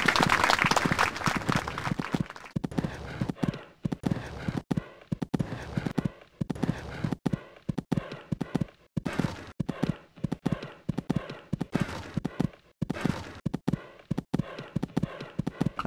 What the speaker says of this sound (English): And that's a good canter.